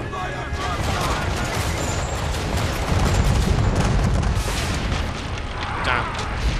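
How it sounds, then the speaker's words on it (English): Ship cannon fire in Assassin's Creed 3 booms repeatedly in a dense barrage over a heavy rumbling battle bed, with scattered crackling blasts, and voices shouting over it. "How often is he firing those cannonballs?"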